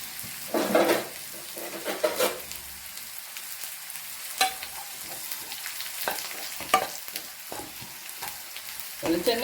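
Grated coconut roasting dry in a pan with onion and chilli, its own coconut oil giving a soft crackle, with the spatula scraping and stirring in scattered bursts through the stretch.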